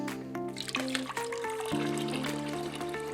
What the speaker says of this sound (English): now we're gonna add about a liter of water, or that's about 4 or 5 cups